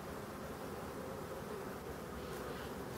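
Dense buzzing of many bees at the entrance of a professional hive, a steady close drone of wings, while hornets hunt them at the hive mouth.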